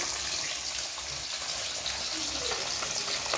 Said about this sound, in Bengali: মাছগুলো ভালোভাবে লাল লাল করে ভাজতে হবে